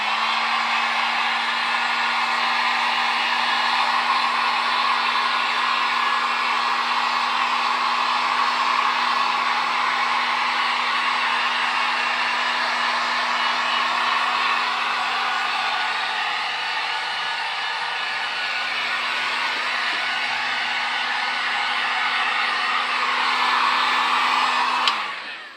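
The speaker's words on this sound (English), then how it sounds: "I've got my dual setting heat gun" A dual-setting heat gun runs on high for a cosplay helmet build, a constant close whooshing blower roar with a steady motor hum, briefly dipping in tone before cutting off at the end.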